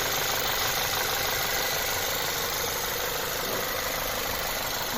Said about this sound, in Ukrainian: Ось так у нас працює двигун.